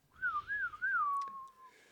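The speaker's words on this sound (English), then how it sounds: "I'm going to whistle my way back down to the trees." A person whistles a short wavering tune that rises and falls a few times before settling into a long steady note, fairly close and clear against a quiet background.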